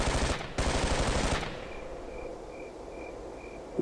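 Machine gun fire in the video game Ghost Recon, two long loud rapid bursts broken by a short gap, then a quieter stretch with faint repeated tones.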